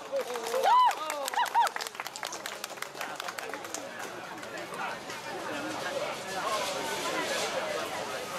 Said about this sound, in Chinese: 我想是因为掌声不够大声